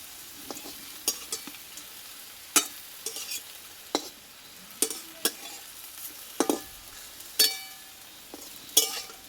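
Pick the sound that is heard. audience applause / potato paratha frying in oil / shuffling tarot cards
potato paratha frying in oil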